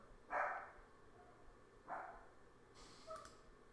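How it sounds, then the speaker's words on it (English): Dogs bark at a garbage man passing down an alley, heard as a few sharp barks spaced over a few seconds at a moderate distance against a quiet background. "the dogs like to freak out about the garbage man"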